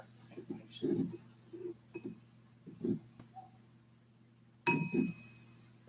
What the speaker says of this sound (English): Listening to 3 sounds of the bell.